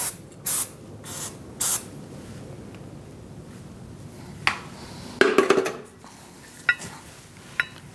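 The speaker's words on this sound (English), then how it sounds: "Make sure you put some anti-seize on your hub." Anti-seize sprayed onto the wheel hub of a 2016–2019 Chevrolet Cruze during a rear hub replacement, heard as short hissing bursts and a longer spray over a steady rumbling background.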